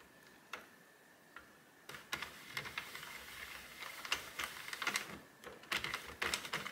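A Sentro knitting machine being cranked to knit yarn gives a steady, close clatter of small mechanical ticks and clicks that grows busier and denser partway through, with no voices.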